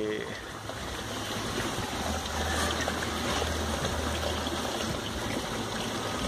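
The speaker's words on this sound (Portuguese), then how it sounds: "Olha aí, tá enchendo o tanque." Water running steadily into a koi carp tank holding koi and tilapia, a continuous trickling stream close by with a low pump-like rumble underneath, and a voice talking over it in places.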